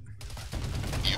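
An autocannon fires in the Arma 3 military game, a rapid burst of heavy shots starting abruptly and continuing loudly for about a second.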